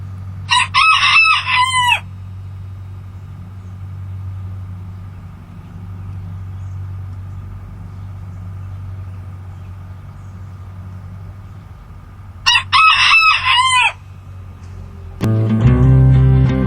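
A rooster named Ratface crows twice, loud and close, with a long quiet rumbling gap between the calls, and a low engine-like hum enters at the end.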